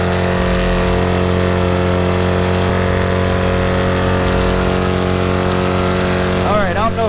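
Paramotor engine droning steadily in flight, a loud continuous buzzing hum with wind noise that fills the whole stretch, close and unbroken.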